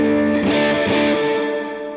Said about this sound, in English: we've got our Into the Big Sky. This is our first reverb patch.